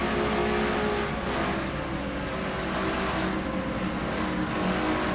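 Race car engines scream past on an oval racetrack in a racing video game, a continuous dense roar of several cars at high speed with steady revving and no letup.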